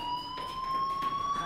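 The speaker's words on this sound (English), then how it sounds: "Do you hear that fire alarm?" A steady electronic fire alarm tone rings from the video game Life Is Strange, a sustained high pitched whine with a faint pulsing, at moderate level.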